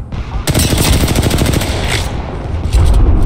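Sniper fire and other shots ring out in an online shooter video game: a loud, rapid burst of repeated shots runs almost without pause, with short, sharp bangs layered on top.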